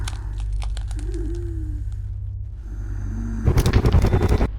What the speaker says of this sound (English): There's a crunching sound